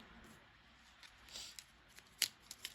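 Tarot cards from a witch deck being shuffled and drawn up close: soft papery rustles building to a brief riffle, then a few sharp card snaps and slaps, quiet and alone.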